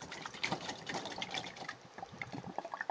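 Vinegar and baking soda sloshing and fizzing inside a balloon as it is poured and shaken, a busy liquid gurgle with small bursts that continues steadily for a few seconds, with no talk.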